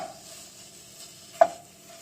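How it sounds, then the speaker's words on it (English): Italian sausage browning in a pan, a quiet steady sizzle with a brief stirring clink near the middle. "you're going to brown the sausage"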